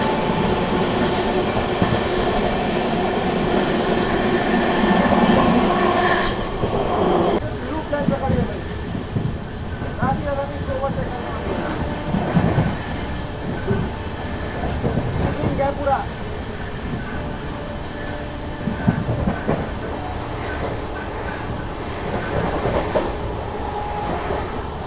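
Vikramshila Express and Magadh Express crossing at Vindhyachal outer in dense fog, a loud close roar of passing coaches with rhythmic wheel clatter over rail joints and faint squeals, steady for most of the pass.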